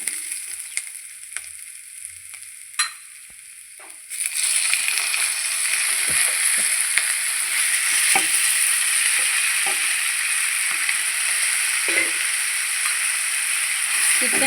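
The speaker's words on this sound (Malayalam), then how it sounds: "ഇതിനകത്തേക്ക് നമുക്ക് ചെറുതായി അരിഞ്ഞ് വെച്ച ചിക്കൻ ഇട്ട് കൊടുക്കാം" Finely chopped chicken hits a pan of sautéed onions for Thiruvananthapuram-style chicken thoran, bursting into a loud, steady sizzle after a quieter start, with scraping stirs throughout.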